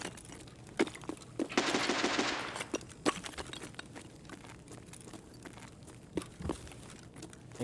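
Silenced shotgun fired in a video game by a player camping an extraction point: a series of sharp, fairly distant shots at irregular intervals, with one brief noisy burst of rapid fire early on against a quiet background.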